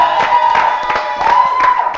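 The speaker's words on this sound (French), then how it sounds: "On va l'applaudir." A studio audience on a French television show claps for Cathy, a short, steady patter of many hands with a faint tonal hum running underneath.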